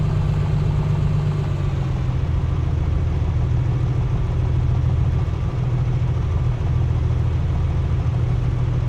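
Piper Comanche engine idles while warming up in Microsoft Flight Simulator 2024, a steady loud low rumble with constant droning tones and no other sounds.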